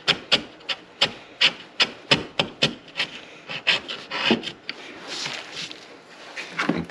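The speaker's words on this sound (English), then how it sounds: "And clearing out that waste wood. Just keep in mind that if you're using the chisel, the bottom of your groove might look a little rough like this." A hand chisel clearing waste wood from a groove for a bookcase, with a rapid series of sharp scraping strokes in a steady rhythm, then softer, looser rasping, all close and alone.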